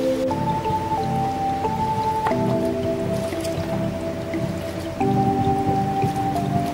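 Pieces of mutton are swished and squelched in a bowl of water, a wet, continuous sloshing and dripping texture that is close and fairly loud, with a steady tonal hum from the kitchen underneath.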